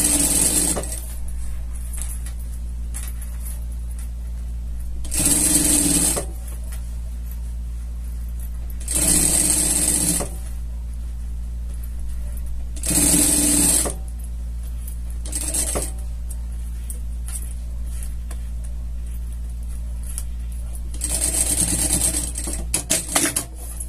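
A sewing machine stitches seams together in several short bursts of rapid whirring, close and fairly loud, separated by quiet pauses, over a constant low hum.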